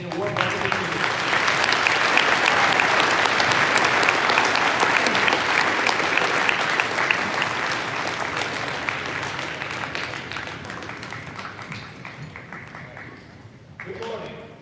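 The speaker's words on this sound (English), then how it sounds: "let's please give a round of applause for our American Legion and a warm welcome to Jameson" Audience at a high school Veterans Day program applauds steadily, a dense sustained wave of clapping that holds strong for most of the stretch before gradually thinning out near the end.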